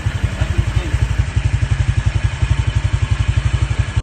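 A motorcycle fitted with a RATLOOK MT8 exhaust pipe idles loud and close, its rapid, even, deep popping pulses thumping through the exhaust without a break.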